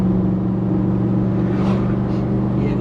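A V8 1UZ VVTi engine in a Mitsubishi L400 4x4 drones steadily from inside the cab, a loud, even low rumble with a faint rise as it pulls, without any break in tone.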